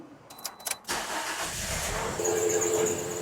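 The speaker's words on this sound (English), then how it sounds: "Okay, it's running and it is misfiring, so we can stop it." A Toyota Corolla with a dead misfire cranks with a few quick bursts, then catches and runs with a rough, uneven idle, heard up close and loud without talk.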